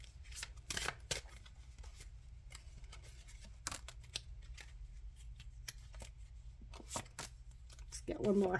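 Tarot cards are shuffled by hand in a quiet room, with soft repeated riffles and a few sharper, louder card slaps, close and steady throughout.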